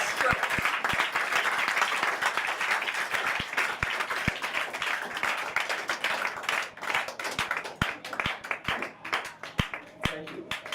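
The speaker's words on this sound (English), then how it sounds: "please give them a hand of applause" Applause for the staff at a Liberia Returnee Network anniversary event, a steady crowd of dense clapping lasting throughout with some talk mixed in, thinning toward the end into scattered individual claps.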